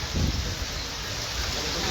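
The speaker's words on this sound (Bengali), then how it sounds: "আকাশের অবস্থা ভালো না প্রচন্ড বাতাস মনে হচ্ছে ঘূর্ণিঝড়ের মতো" Strong, gusty wind blows beside the Kirtankhola river near Charmonai during a low-pressure storm. Broad, rushing roar with a heavier buffet near the start, then steady blustery noise, with no one speaking.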